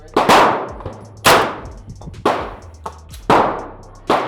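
A BinTac big bore semi-automatic airgun fires five loud, sharp cracks about a second apart, each with a short ringing decay, close and with no talking.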